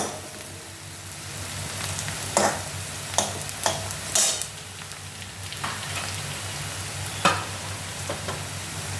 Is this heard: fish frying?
yes